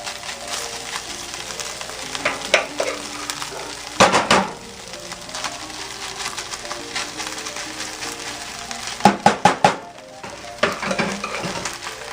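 Rice sizzles and crackles steadily in a hot pan, broken by a few bursts of scraping and clattering as it is stirred, close up with no talking.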